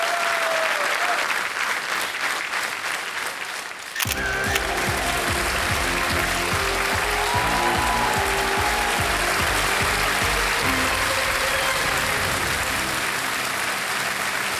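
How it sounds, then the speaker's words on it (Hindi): Loud, sustained applause from a large studio audience on the game show Kaun Banega Crorepati, with music swelling in underneath after a few seconds and continuing to the end. "तालियां बजती रहे देवियों सज्जनों।"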